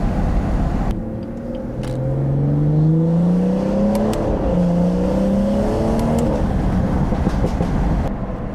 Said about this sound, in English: Can't beat the sound of B58.